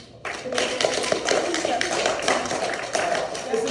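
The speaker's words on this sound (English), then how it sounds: "Everybody give Grant a round of applause." Middle school students applaud a classmate during an anti-bullying assembly, a lively burst of clapping that starts abruptly and continues at close range, with voices mixed in.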